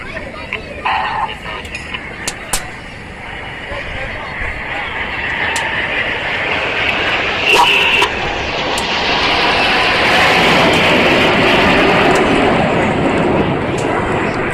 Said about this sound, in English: there's a lone jet. That is Red 9. He's about to fly in between Enid's V as they fly the Goose.